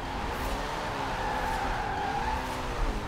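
A car drifts through city streets in Forza Horizon 4, its engine droning steadily while the tires squeal in a sustained, wavering skid that carries on throughout.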